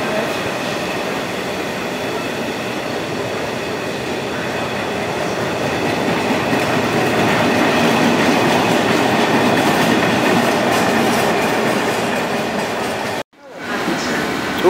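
A heavy triple-header train with three locomotives rumbles steadily past at close range at Cardiff Central, wheels clattering on the rails, the roar building and holding before cutting off abruptly near the end.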